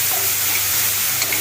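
Spice paste sautéed in a pan gives a brief, loud, continuous sizzle with faint stirring scrapes and no talking.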